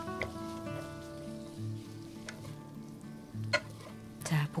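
Fried rice with butter added at the end sizzles steadily in a pan, an even crackling hiss with occasional scraping stirs and clinks, close and unbroken with no talking.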